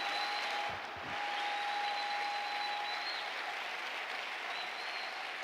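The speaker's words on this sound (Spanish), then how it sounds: "démosle un aplauso al Señor. Él merece que sea aplaudido." A church congregation applauds together in a sustained round of clapping that dips briefly near the start and then carries on evenly until the end.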